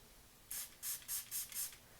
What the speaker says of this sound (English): I'm just going to spray my Smashbox Photo Primer water on it